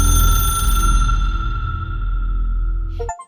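Ringing telephone in the video game Control, a bright sustained tone fading out over a low drone, ending with a short sharp metallic clink.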